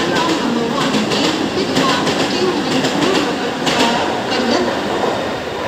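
Indian Railways local train at Thakurli station, steady loud rumble with clickety-clack of wheels on rails running throughout, close by.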